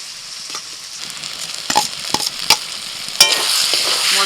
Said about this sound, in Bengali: মশলার সাথে আলুটাকে আরেকটু কষিয়ে নেব,